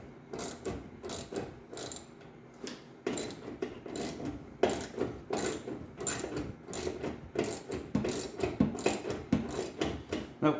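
A hand ratchet undoes a rear bumper bolt on a Triumph TR6, giving rapid bursts of close, clicking pawl strokes in repeated runs with brief pauses, and no talking.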